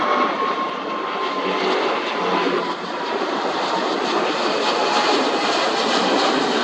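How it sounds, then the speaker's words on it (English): A steady, loud aircraft engine roars continuously without a break, a broad even drone filling the whole stretch with no voices. "And listen to that engine."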